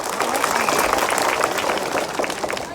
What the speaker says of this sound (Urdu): مولانا عبدالرحیم صاحب کے لیے زوردار تالیوں سے اس کی ہمت افزائی کریں